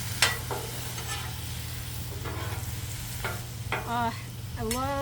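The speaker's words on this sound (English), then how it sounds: "So let's just go ahead and give those a quick stir." Apples softening in liquid in a pan are stirred, giving a steady low simmering hum with scattered scraping strokes and a few squeaky utensil scrapes near the end, close and moderately loud with no talking.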